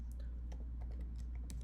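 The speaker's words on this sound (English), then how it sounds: "I'm just typing it" Soft, quick clicks of fingers typing on a computer keyboard, faint and irregular over a steady low room hum.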